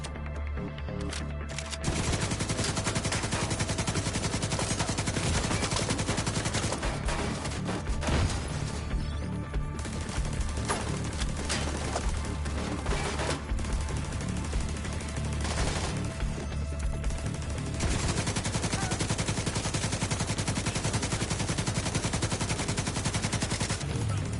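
Sustained, loud automatic gunfire in The Division 2, with heavy continuous bursts running almost without pause, layered with impacts and crashes and brief lulls.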